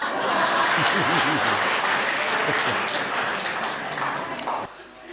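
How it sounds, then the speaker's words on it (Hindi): Audience applause at a comedy song performance, steady clapping mixed with a singing or speaking voice over it and some shouting, tapering off near the end. "ये उन्हीं लोगों ने ताली बजाई है"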